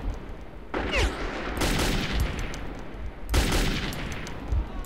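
Gunfire in the Metro 2033 video game, with bursts of sharp shots in quick succession: one volley near the start, a dense stretch in the middle and another burst near the end, all loud and close with no talk.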